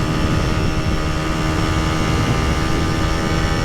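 A Honda Dream 50 Race Replica engine revs at high RPM, giving a steady, loud, buzzing drone with a constant pitch, heard up close and with no talking.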